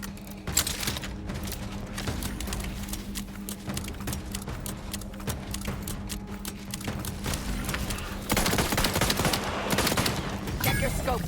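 Gunfire in the video game Outer Worlds 2, with rapid bursts and shots crackling steadily throughout. A low droning hum sits underneath, and the firing grows heavier and denser toward the end.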